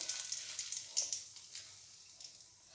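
Dried red chilli, broken into two pieces, drops into hot mustard oil in a pan and sizzles with a steady, soft frying hiss, close and alone.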